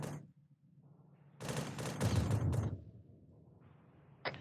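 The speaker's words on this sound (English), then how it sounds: "I hear a bunch of big explosions." A quiet lull in the video game Arma 3 breaks into a burst of rapid gunfire and booming blasts, fading to a low rumble before one more sharp crack.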